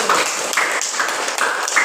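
Students in a classroom applaud a presenting group, a continuous wash of clapping with a few sharper bright accents over roughly two seconds and no voices over it.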